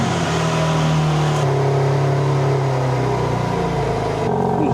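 A BMW G83 car idles after being turned on during spoiler fitting, a steady engine hum with a brief rise in pitch as it revs, close and loud with no talking.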